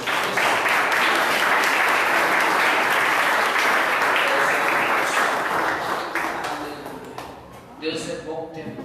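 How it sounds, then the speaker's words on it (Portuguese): Congregation clapping in church during a worship service, a loud, dense burst of applause with voices mixed in, fading down toward the end as talking takes over. "Vamos aplaudir ao Senhor."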